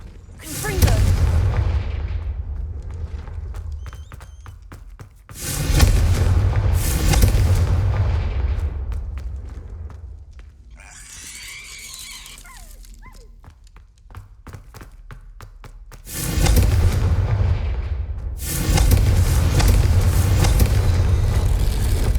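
Spell explosions from Confringo cast in the Hogwarts Legacy video game, heavy booming blasts in several loud bursts separated by quieter stretches, with game sounds between.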